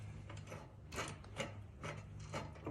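Ratchet and socket on an extension winding a bolt into a Cult Butter peg on a BMX bike, several short bursts of close, quiet clicking spaced about half a second apart over a low hum.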